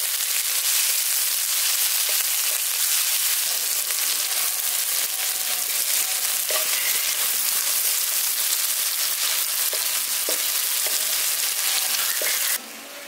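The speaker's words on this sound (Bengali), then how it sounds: "পেঁয়াজটাকে আমি ভেজে নিচ্ছি।" Chopped onions, three of them, fry in a pan for a fish bhapa dish, giving a steady, dense sizzle that holds close and loud from start to finish, with soft stirring clicks scattered throughout.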